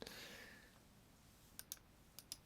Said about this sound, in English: the clicking of the mouse